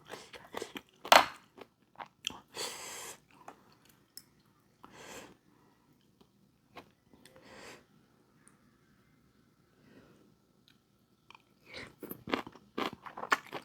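Crunchy chewy noodle salad with salmon and fish balls is bitten and chewed close up, giving loud bursts of crunching separated by quiet pauses, with a cluster of crunches near the end.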